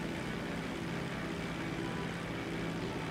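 A small plane's engine in GTA Online drones steadily and loudly throughout, a continuous even hum with no breaks.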